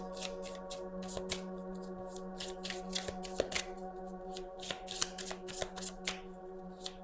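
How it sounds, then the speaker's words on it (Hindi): Oracle cards are picked up and shuffled by hand, giving a close, steady run of crisp flicking and riffling taps over several seconds against a faint background hum. "अभी मैं उस कार्ड को उठाऊंगा"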